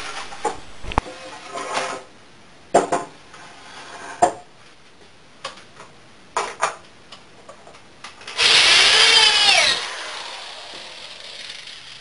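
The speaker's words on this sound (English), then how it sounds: "I pre-drilled and screwed all of my connections while keeping the frame square." A power drill pre-drills and drives screws into a wooden frame: scattered knocks and taps of wood handling, then one loud, whirring drill burst lasting just over a second, close by.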